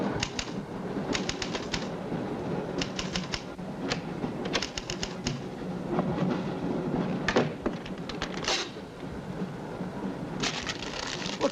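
A train runs along in a scene from the horror film Horror Express, with bursts of rhythmic rail clatter repeating over a steady low rumble and no voices.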